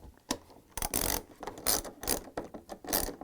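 A ratchet clicks in quick close bursts as bolts are tightened on the center tub of a Samsung washer during a tub seal replacement, with short pauses between the runs of clicks.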